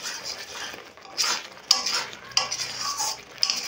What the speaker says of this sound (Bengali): এবার আমি ঘিটা বেশ ভালো করে মিশিয়ে নেব।